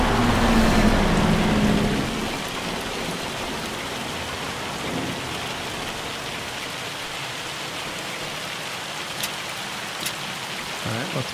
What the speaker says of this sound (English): but it's raining. Oh, it's hail.